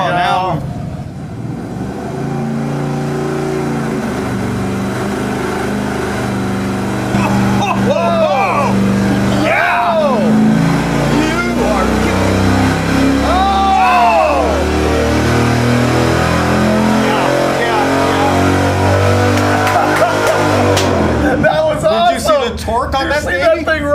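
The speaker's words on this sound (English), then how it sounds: "That was the very first dyno pull that we made with the 383 Mopar" A 383 Mopar V8 on an engine dyno roars continuously through a full pull, loud and sustained with rising and falling revs, while people talk over it.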